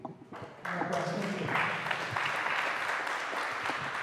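Sustained applause from an audience at a Brooklyn community board meeting, a steady wash of clapping that swells in after a brief quieter opening and holds at a fairly even level.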